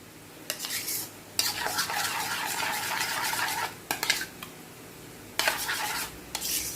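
Mustard aioli with mayonnaise being stirred or whisked in a bowl, giving bursts of scraping, clinking strokes separated by short pauses, close and fairly loud with no talking.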